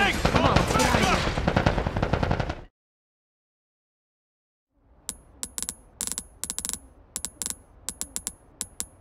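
Rapid gunfire in a video game comes in bursts of sharp cracks. A dense loud stretch is followed by silence, then scattered volleys of shots.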